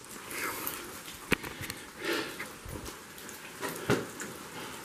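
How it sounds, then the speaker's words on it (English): Rain falls steadily during a foggy forest hike in Georgia, a soft continuous patter with a few sharper drips and thumps close by, and no talking. "A lot of rain."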